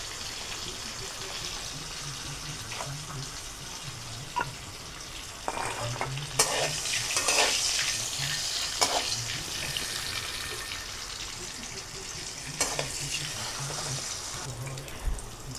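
Egg frying in a pan with salt, turmeric and a little water, a steady sizzle broken by sharp scraping clicks of stirring, close and moderately loud.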